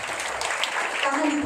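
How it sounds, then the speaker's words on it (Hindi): Applause at a church gathering, a brief burst of clapping from the congregation that runs steadily and is joined by some talking near the end. "ताली बजाओ"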